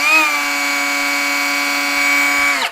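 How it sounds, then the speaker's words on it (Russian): A Heimerdinger LB201 mini angle grinder starts up and runs at a steady high-pitched whine. The tone is loud and close, with strong harmonics, and it winds down at the end. "Вот первое включение сразу после разборки с вами будет вместе."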